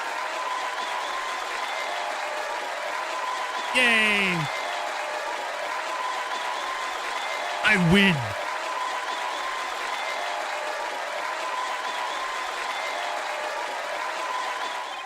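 Looped crowd cheering and applause from an Ace Attorney courtroom game, a steady loud wash of clapping and cheers throughout, with a person briefly exclaiming over it twice.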